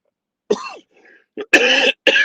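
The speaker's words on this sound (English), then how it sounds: "I got this little nagging cough" A few rough coughs and throat-clearing bursts come close up, separated by short silences, with the last two louder and harsher.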